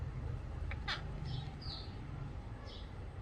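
A pet parrot bathing gives a few short, faint squawks and chirps over a low background hum.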